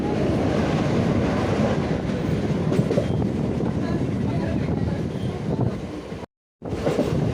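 A passenger train rumbles across the bridge over the Kallada river near Munroe Island, a loud continuous rolling roar with rhythmic wheel clatter, cut by a brief dropout near the end.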